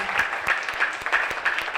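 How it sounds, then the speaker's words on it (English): An audience claps for Connie after a body-positivity class, a short, fairly faint patter of applause with sharp individual claps. "Let's give Connie a round of applause."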